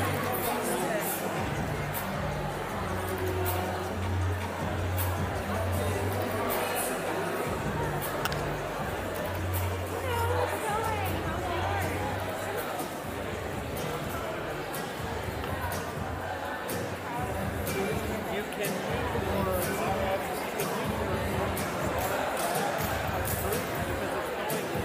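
Steady crowd noise picked up through a microphone at a USC speech event, a continuous dense murmur of many voices with a low hum underneath.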